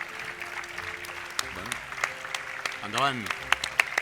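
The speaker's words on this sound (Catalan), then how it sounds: "Un fort aplaudiment per ells, perquè ha estat fantàstic." Audience applauding the chef team at the Premis Nacionals de Gastronomia ceremony in the gardens of the Palau de Pedralbes, a moderate, steady patter of clapping heard under an announcer's voice.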